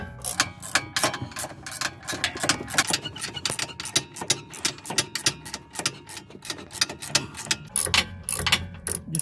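A swivel ratchet clicks rapidly in uneven bursts, tightening a rear sway bar link nut on a 2008 Saturn Aura, close and crisp with no talking.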